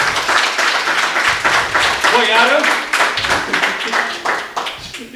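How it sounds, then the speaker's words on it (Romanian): Audience clapping for a comedian named Drăguț at a Romanian stand-up joke contest semifinal, a brisk burst of hand claps and applause with a voice briefly talking over it. "Și aplauze pentru Drăguț."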